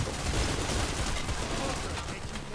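Dense, continuous gunfire from Payday: The Heist fills the whole stretch, a loud wall of overlapping shots with no clear gaps between bursts.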